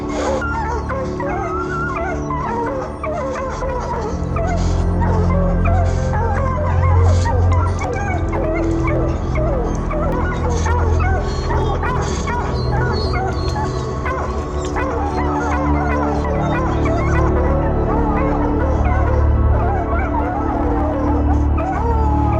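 Hunting dogs bark, yip and howl relentlessly at a mountain lion treed in the Utah mountains, a loud, dense pack chorus of overlapping barks and whines that never lets up, with a voice occasionally underneath.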